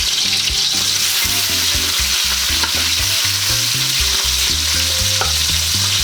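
Garlic, onion and tomato fry in a pan for fish escabeche, a loud continuous sizzle with repeated scraping and stirring close by, no voices.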